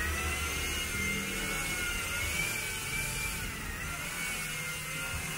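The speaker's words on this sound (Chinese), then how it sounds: "来，现在我自己手动起飞。" An F3 quadcopter drone lifts off and hovers, its rotors giving a steady, fairly quiet whirring whine that holds level throughout with no talking.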